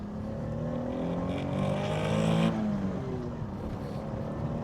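A Renault Alpine A310 pulls hard, its engine note rising steadily as it revs toward about 6,500 rpm, then easing off, heard from inside the car at moderate level with no talking.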